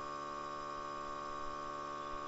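Airbrush blowing cleaner straight through at full open while weathering a model railway building, a steady hissing hum with fine tonal whine that shifts slightly as the paint chamber empties, continuous and close.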